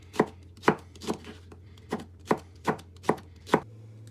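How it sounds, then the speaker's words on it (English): Knife chopping vegetables on a cutting board while prepping a vegetable chow mein, about nine sharp, evenly spaced chops close by, with a steady low hum underneath and no talking. "chop them into inch strips again, side angle perhaps, then cook more evenly"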